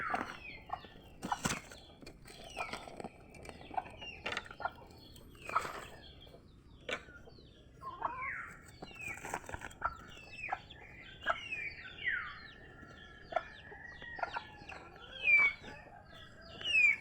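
A hen clucks in short, scattered bursts, fairly close, with intermittent bird chirps and rustling in an otherwise quiet yard.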